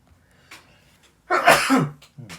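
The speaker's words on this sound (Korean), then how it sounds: "재채기가 나오려고 막" A single loud sneeze bursts out close by in a quiet room during a high school math lesson, preceded by a faint sharp inhale.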